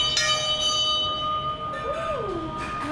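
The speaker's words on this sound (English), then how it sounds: "Ring the bell. Hit it hard." A temple bell in Amritsar struck hard: one strong clang near the start that rings on with a long, steady metallic tone as it fades, while a voice speaks faintly underneath.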